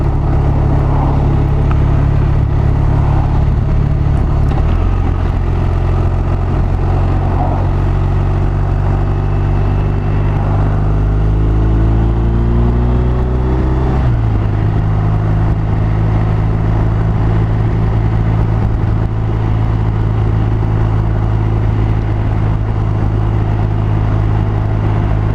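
A BMW R1250 RT motorcycle under way gives a loud, steady engine drone with heavy wind rush, shifting pitch briefly as the revs change midway, then settling back into an even cruise.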